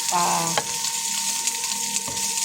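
Garlic sautés in a pan with a loud, continuous close-up sizzle, broken by brief clicks and scrapes of stirring, with no talking.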